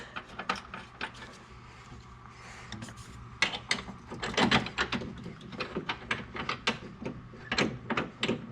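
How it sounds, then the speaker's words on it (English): Motor mount bolts are started by hand on a 2004–2008 Acura TL, giving close, irregular metallic clinks, taps and rattles that cluster into a busier burst of small knocks partway through, with no speech. "See if we can get these bolts started up."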